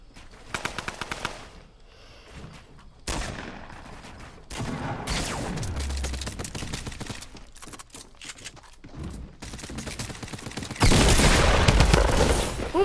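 Video game gunfire in Fortnite, bursts of rapid automatic shots and scattered single cracks coming in uneven waves, some near and loud, some quieter, with a heavy sustained barrage near the end.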